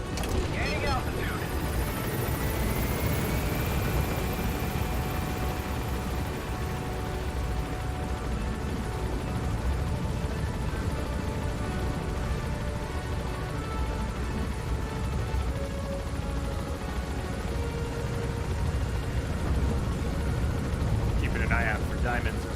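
A helicopter in Metal Gear Solid V: The Phantom Pain flies away while gaining altitude, a steady continuous rotor and engine drone throughout, moderately loud with faint tonal whines layered over it.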